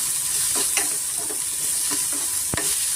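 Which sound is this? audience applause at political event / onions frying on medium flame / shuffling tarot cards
onions frying on medium flame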